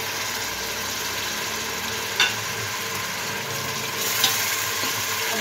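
Garlic, ginger, salt, chilli, turmeric and coriander frying in oil in a large pot for haleem, a steady soft sizzle with two brief scraping stirs, no talking.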